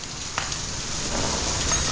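Steady rain falls outside during work on a Honda Talon side-by-side, a constant close hiss of drops with a few faint knocks and no talking.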